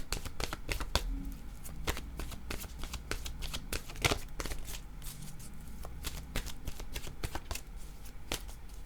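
Oracle cards are shuffled by hand in a quiet room, giving rapid, irregular papery flicks and crisp snaps that continue throughout at a soft, close level with no talking.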